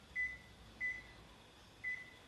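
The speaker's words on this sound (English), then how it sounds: "it's a timer." Three short, identical electronic timer beeps sound at even intervals in a quiet kitchen, set while egg coffee simmers on the stove; nobody speaks over them.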